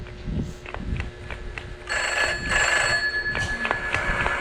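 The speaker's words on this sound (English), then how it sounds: "Phone ringing." A telephone rings with a bright, sustained bell tone that swells partway through, over a backdrop of rhythmic knocks and room noise.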